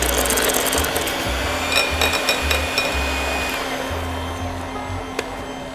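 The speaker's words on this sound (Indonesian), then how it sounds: "Kita kocok semua jadi satu ya." An electric mixer whisks green tea cake batter with green tea paste. Its motor gives a constant whir with a rattling, ratchet-like gear clatter and a few sharp clicks, close up and with no talk.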